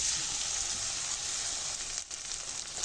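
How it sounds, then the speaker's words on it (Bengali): Dried shrimp hit hot mustard oil in a wok, giving a loud, continuous sizzle and crackle up close. It dips briefly near the end, then carries on steadily with no voices. "কড়ার ভিতরে আমি সরিষার তেল দিয়েছি তেলটা খুব ভালোভাবে গরম হয়ে গেছে এবারে চিংড়ি শুটকি মাছগুলো দিয়ে দেবো"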